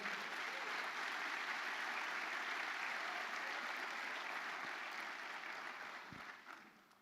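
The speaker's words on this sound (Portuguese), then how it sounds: "Você pode aplaudir o Senhor mais uma vez nesse lugar?" Steady church congregation applause, a dense patter of many hands clapping that holds strong, then gradually thins and fades toward the end.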